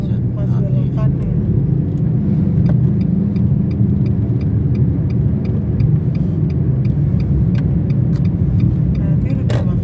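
A car inching through a traffic jam, heard from inside: a steady low engine and road hum runs throughout with a faint regular ticking, while people talk over it.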